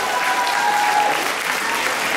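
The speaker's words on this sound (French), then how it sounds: "Applaudissez Estelle" Dense, close crowd applause fills the whole moment at the Miss Moselle 2013 pageant as candidate number 6 is presented, a steady roar of clapping with no break.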